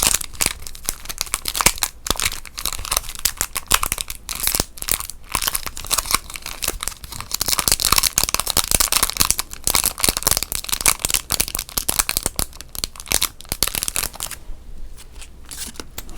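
Foil sports card packs crinkle and crunch close up, with constant crackling rustles and sharp crisp bursts coming in quick irregular handfuls, alone with no talk.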